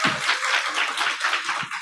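Audience applause after a lecture at a company headquarters event, a short burst of dense, close clapping that stays steady throughout.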